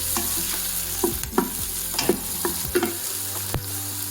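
Onions sauté with salt in a hot pan, a steady sizzle broken by repeated stirring scrapes and clinks, close and alone with no talking.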